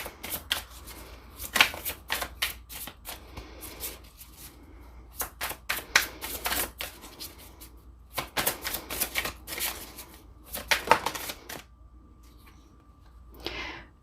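Tarot cards are shuffled and drawn in a steady series of crisp, close riffles and flicks. Brief quieter gaps separate the runs, and one final shuffle comes near the end, with no voices.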